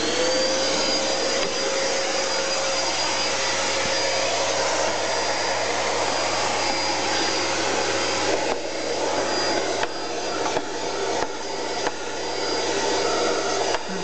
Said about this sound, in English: get the hoover on